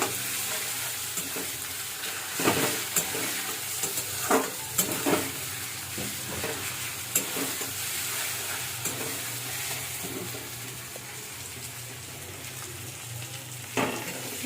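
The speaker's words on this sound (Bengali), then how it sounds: "টমেটোটা দেওয়া হলো। সুন্দর মতো ভালো করে কষিয়ে নিতে হবে এটাকে।" Tomatoes sautéing and being stirred in a frying pan, a steady close sizzle with scattered scraping strokes of a spoon against the pan, no voices.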